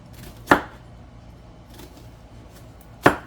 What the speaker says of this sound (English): I am just going to just give these a rough chop